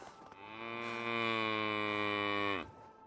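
A single long cow moo in a farming survival video game, set beside an orchard, swelling steadily for about two seconds and then cutting off, with no talk over it.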